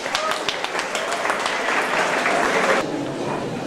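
An audience at a Latin American philosophy conference applauds to welcome a professor, with dense steady clapping for about three seconds that then thins out abruptly.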